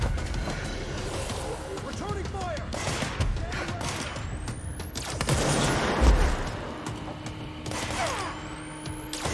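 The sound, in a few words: gunfire in the video game Control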